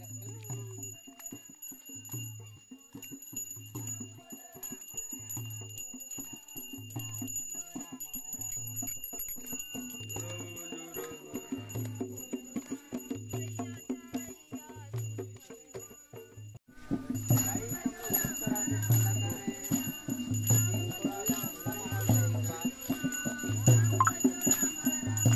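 A hand bell is shaken again and again in a Krishna immersion procession, ringing in a steady repeating rhythm, with crowd noise and activity growing louder partway through.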